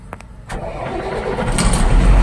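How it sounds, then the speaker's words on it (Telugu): A lorry's engine cranks and catches, then settles into a steady, loud rumbling idle that builds slightly toward the end, heard up close with no talking. "నెక్స్ట్ ఇక బండి అయితే మనం స్టార్ట్ చేస్తున్నాము"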